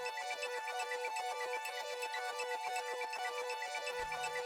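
A reversed atmospheric sample, pitched up to the key of a dance track, makes a steady, shimmering tonal pad. It swells evenly and continuously, alone at moderate loudness.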